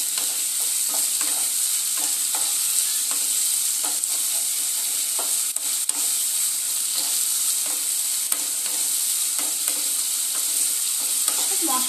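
Spice masala and yogurt stirred in a hot pan for a Katla fish oil curry, a steady close sizzle with repeated scraping strokes of the spoon throughout, no voices.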